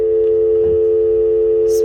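Steady continuous dial tone from a landline hotel phone on speakerphone, a loud unbroken hum that runs throughout with a faint click at the end.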